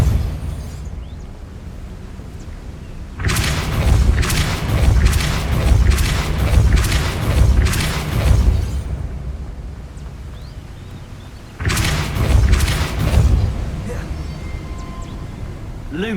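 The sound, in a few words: Depulso spell blast in Hogwarts Legacy video game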